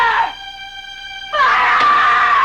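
A woman screams loudly, one shrill cry breaking off, then after a sustained tone a second long piercing scream.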